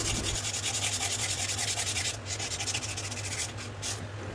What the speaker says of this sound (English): I have taken a 240 grit sandpaper and I'm sanding it off.